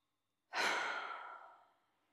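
A single slow, breathy exhalation during a guided breathing exercise, starting abruptly and fading gently over about a second; soft and close, with no talking.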